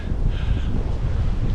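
Low, steady wind from Storm Darragh buffets the microphone at a wild campsite in a continuous rumbling roar, loud and close, with no voices.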